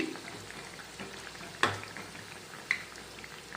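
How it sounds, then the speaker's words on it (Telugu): Vadas, lentil fritters, frying in hot oil give a steady soft sizzle and bubbling, with a couple of brief louder crackles or clinks partway through. "వడలు అనేవి కుక్ అవుతున్నాయండి వేగుతున్నాయి"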